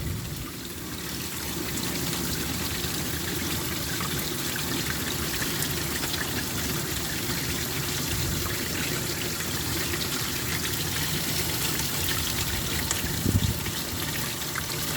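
Water and sediment flush out of the bottom drain of a sleeper pond with a Cetus sieve, a continuous rushing, trickling flow that stays steady and fairly loud throughout, with a brief extra gush near the end.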